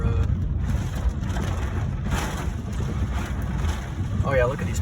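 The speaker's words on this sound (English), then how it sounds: "this is like 60-mile-an-hour winds right here" Strong storm wind gusting against a vehicle in central Illinois, a steady loud roaring rush with heavy buffeting across the whole stretch and a faint brief whistle near the end.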